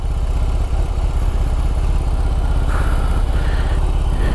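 A BMW R18 First Edition motorcycle idles close by, its big boxer engine giving a steady, loud, rhythmic low throb that stays even throughout with no talking.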